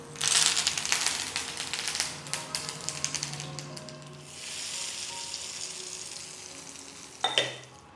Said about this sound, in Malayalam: ഒരു തടുക്ക ചൂടാക്കി 2 ടേബിൾ സ്പൂൺ വെളിച്ചെണ്ണ ഒഴിച്ച് 1/2 ടീസ്പൂൺ കടുകും 2 വറ്റൽമുളകും 2 തണ്ട് കറിവേപ്പിലയും കൂടി ഇട്ട് താളിച്ച്